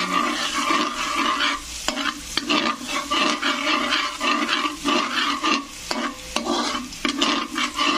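Meat browns loudly in a hot pan, with a dense continuous sizzle and crackle. Frequent stirring scrapes run through the whole stretch, and nobody speaks.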